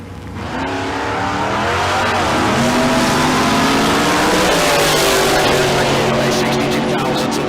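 A 1972 Dodge Dart and a dragster launch side by side at Tucson Dragway bracket racing, engines roaring up loud and sustained with rising revs, a voice talking over the din.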